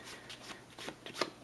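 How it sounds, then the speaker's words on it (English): A deck of Vault 84 cards for Fallout: The Pitt is shuffled by hand: a brief, close, papery riffle of rapid flutters with a crisp snap near the end, and no talk. "just shuffle them up and then choose a single card that we are going to be able to encounter"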